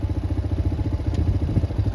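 A motorcycle engine idles steadily with a regular low throb and light mechanical clatter as the bike is clicked into neutral, close and continuous with no talk.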